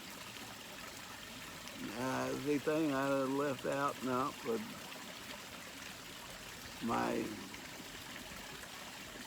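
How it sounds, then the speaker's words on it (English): Constant rushing water, like a waterfall, fills the background while someone speaks briefly over it. "waterfall's kind of loud today"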